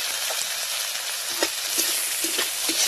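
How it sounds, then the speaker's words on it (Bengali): Onion and green chili sizzle and fry in fish oil in a pan, a steady loud hiss broken by small pops and stirring knocks. "এবার আমি মাছের তেল দিয়ে, এর সাথে ভালো করে ভাজা হবে"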